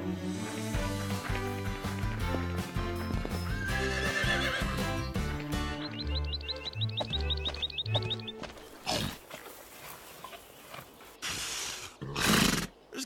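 Cartoon horses whinny loudly over busy clip-clop hoofbeats and swelling music, followed by a few sharp whooshing bursts near the end.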